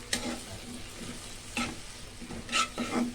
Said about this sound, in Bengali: নাড়াচাড়া করে নিব ভালো করে।